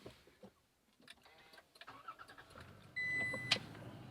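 A 2022 Toyota Tacoma TRD Off-Road V6 cranks and catches near the end, with a short rising whir and a sharp burst as the engine fires. Quiet cabin rustling comes before it.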